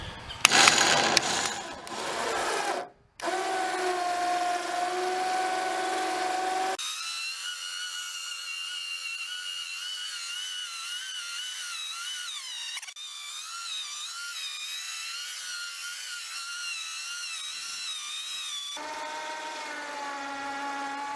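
A Harbor Freight 2,000-pound winch lag-bolted to a deck runs in long steady stretches, its electric motor whining with a wavering pitch that shifts between segments after a few knocks and clatters at the start.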